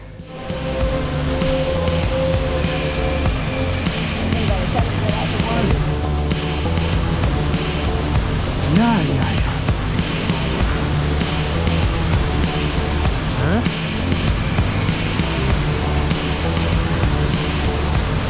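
Sipi Falls, an 85-metre waterfall in Uganda, gives a steady, loud, broadband roar of falling water that runs unbroken through the whole stretch, with voices talking over it.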